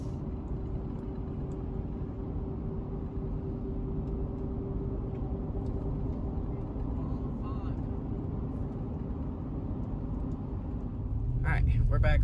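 Steady low engine rumble and road noise from a car driving on a dirt road in the Ozarks, a constant drone from inside the cabin that swells slightly near the end.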